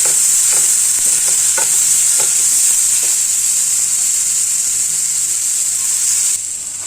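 Vegetables for a shawarma filling sizzle loudly and steadily in a hot pan, with a few scraping stirs early on before the frying hiss settles and drops slightly at the end.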